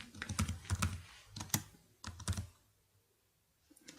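Typing on a computer keyboard while entering business details for a map listing: bursts of close, crisp key clicks in quick clusters, then a pause near the end with a last faint tap.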